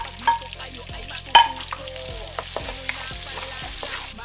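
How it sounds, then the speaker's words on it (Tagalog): Garlic and onions sautéing in an uncleaned wok, a bright hiss of frying under rhythmic spatula scrapes and a sharp metal clang early on, close and steady without speech. "Magigisa na ako mga kabayan ng bawang."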